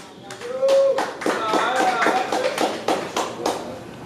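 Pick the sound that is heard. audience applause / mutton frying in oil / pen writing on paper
audience applause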